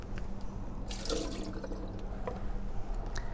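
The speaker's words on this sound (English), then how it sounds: "now I'm cleaning with the strong acidic water to kill the bacteria" Cherry tomatoes are washed under running water in a sink, in strong acidic water used to kill bacteria. The steady splashing and trickling is close and continuous, with a brief louder gush partway through and no talk.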